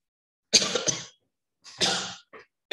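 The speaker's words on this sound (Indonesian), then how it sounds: "Batuk." A few harsh coughs up close during a university lecture, a burst of two then a longer cough and a short one, separated by brief silences.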